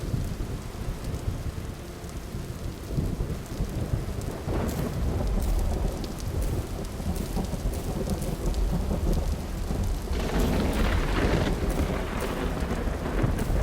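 Thunderstorm in the Vintage Story video game, with steady heavy rain and rolling thunder rumbling throughout, louder crackling bursts near the start and again toward the end.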